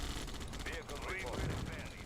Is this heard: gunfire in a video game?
yes